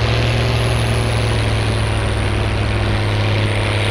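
A tractor engine idles in the video game Farming Simulator 19, a steady low droning hum with a constant tone and no speech over it.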